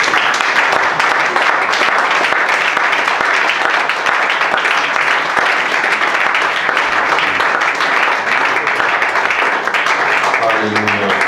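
Church congregation applauding the Lord during a French-language service, dense continuous clapping that fills the room at steady loudness for the whole stretch, with voices mixed in.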